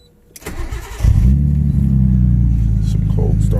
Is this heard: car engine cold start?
yes